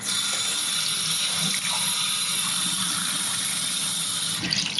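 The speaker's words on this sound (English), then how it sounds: "we're going to fill the jar up with water." Tap water runs into a jar in a steady, hissing rush from a faucet, close and continuous, with the filling tone shifting slightly near the end and no voices present.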